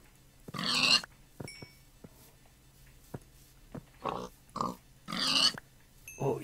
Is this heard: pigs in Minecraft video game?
yes